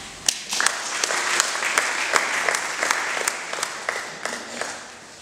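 Mourners at a church funeral applauding, many hands clapping in a dense sustained burst with some louder individual claps standing out throughout.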